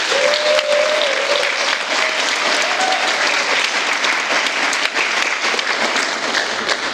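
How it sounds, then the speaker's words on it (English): An audience at a San Diego book tour presentation claps loudly and evenly for seven seconds, with a brief raised voice early on. "Let's get another round of applause, please."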